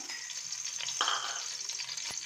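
Homemade ghee sizzles in a pan with a steady, bright frying hiss, close and moderately loud, broken by a short sharp crackle partway through.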